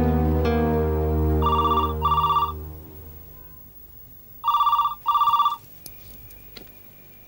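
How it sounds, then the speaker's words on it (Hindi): A landline telephone bell rings in two double bursts, loud and close, with a quiet pause between the pairs and no one talking over it. "मैं अन्नू को फोन लगाता हूं।"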